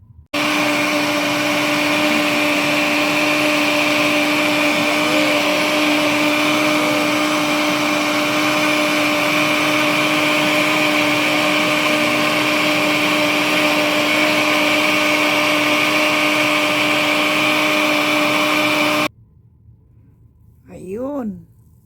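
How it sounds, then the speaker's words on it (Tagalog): A kitchen blender whirs loudly and steadily while blending an ice candy juice mixture, a constant motor drone for most of the clip before it cuts off and a short burst of quieter sound follows. "I-blender natin para mainom na."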